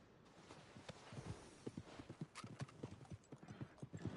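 Horse hooves clip-clopping in Red Dead Redemption 2, a rapid, fairly faint series of hoof strikes on hard ground that grows steadier and denser as the horse keeps moving.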